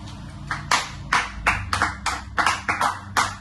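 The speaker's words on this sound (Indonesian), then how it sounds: "Tepuk tangan ya, nanti Ibu kasih nilai tambahan ya" A classroom of students claps in a micro-teaching lesson, with bursts of uneven claps from several people, fairly close, in a loose repeating rhythm.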